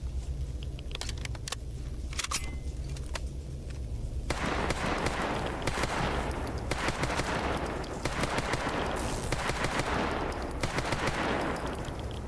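Automatic gunfire in the survival shooter GAMMA, with scattered single shots early and then a long, dense burst of rapid fire that continues to the end, loud and close.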